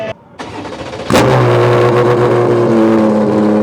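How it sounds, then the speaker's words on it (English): A Porsche RSR race car with a center exit exhaust fires and revs hard, a loud, raspy exhaust roar holding steady after a short quieter idle. "it's got the center exit exhaust, which, if you know anything about RSRs, sounds a lot cooler than the side exit"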